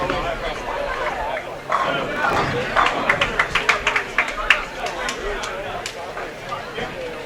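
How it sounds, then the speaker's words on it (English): Bowlers and teammates at a college bowling finals let out a playful cheer, rising out of crowd chatter into a quick burst of rhythmic clapping and shouts that fades after a few seconds. "Playful cheer there"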